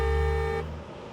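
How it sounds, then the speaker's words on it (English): A car horn sounds steadily from inside the cabin, muffled by the car's soundproofing, holding for about half a second and then cutting off, leaving quiet interior background. "the horn doesn't sound loud at all"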